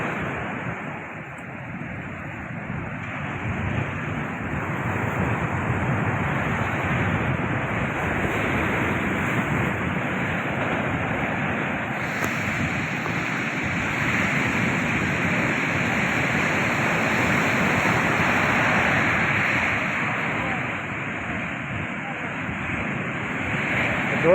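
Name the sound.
sea waves at Madhupur beach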